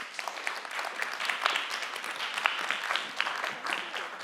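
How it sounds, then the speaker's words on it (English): A conference audience at a music and tech convention claps for a speaker in a dense, even patter of applause that carries on through the whole stretch at moderate loudness. "Give a really big and warm round of applause for Hazel Savage."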